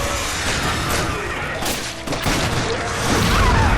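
Dense, continuous game gunfire and impact bursts during a co-op Resident Evil 5 firefight, loud and busy throughout with explosive thumps, while players shout in the background.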